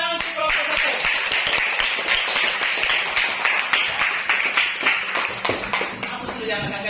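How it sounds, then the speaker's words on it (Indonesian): A classroom of students claps for a group, a dense burst of many hands applauding together that continues for several seconds before thinning out, with voices talking underneath. "Oke, tepuk tangan untuk kelompok"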